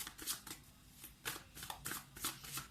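Tarot cards being shuffled and picked, soft papery riffles and flicks in quick bursts, close but quiet.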